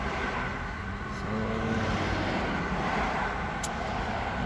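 Steady road traffic in Canada, a continuous broadband rumble of passing cars heard from close by, with no voices over it.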